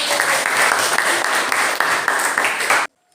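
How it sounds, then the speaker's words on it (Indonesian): A classroom of students claps together for group 4 during a physics lesson, a brisk, fairly loud burst of applause with slight surges that stops abruptly, leaving near silence. "Silakan kelompok 4. Berikan tepuk tangan."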